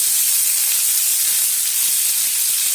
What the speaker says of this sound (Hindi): अब उसमें बारीक कटा हुआ प्याज डालेंगे